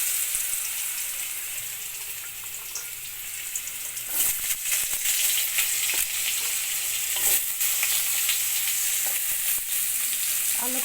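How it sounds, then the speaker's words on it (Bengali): Diced potato chunks tipped into hot oil fry with a steady, loud sizzle that swells and crackles as they hit the pan, with occasional stirring, no voices. "এই যে আলু, এই তেলের মধ্যে আলু দেবো।"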